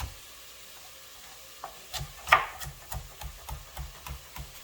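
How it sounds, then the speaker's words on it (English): A knife slices carrots on a cutting board while Jamaican stew peas are prepared, giving a steady series of crisp, close chopping knocks and scrapes, roughly two to three per second, with no talking. "Cutting the carrots like this, guys, make sure it's sitting on the flat side."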